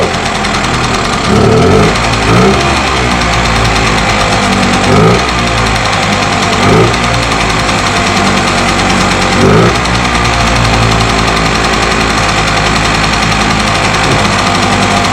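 A Puch Magnum X moped engine idles steadily and close up, a continuous low mechanical drone with a faint knocking pulse and occasional surges as a touch of throttle is given.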